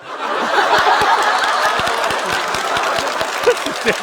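An audience claps steadily at a comedy roast, a dense continuous round of applause with scattered chuckles and laughter mixed in.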